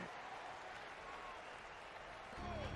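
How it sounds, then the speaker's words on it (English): Virtual arena crowd in an NBA 2K basketball game applauding a Lakers youth dance team, steady broad clapping and cheering throughout that swells louder near the end, with faint tonal whistles over it. "Let's give a big round of applause to your Lakers youth dance team."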